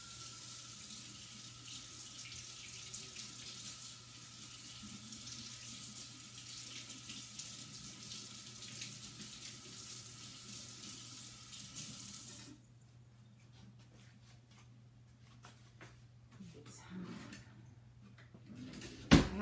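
Kitchen tap water runs steadily while a chalk stencil is rinsed off under it, the flow stopping partway through and leaving quieter handling noises and a brief clatter at the end.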